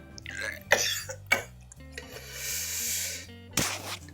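A person coughs a few times close up, with throat-clearing and heavy breathing between the coughs, then one last sharp cough.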